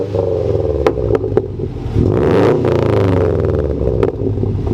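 A Subaru WRX with a 2.5-liter engine, catback exhaust and open downpipe revving up close, with sharp throttle blips and a rising rev near the middle over a burbling idle.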